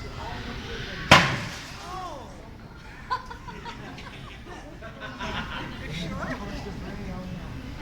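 Thermally tempered glass takes a hard whack, giving a sharp loud crack, then a few lighter knocks follow while people talk and laugh nearby.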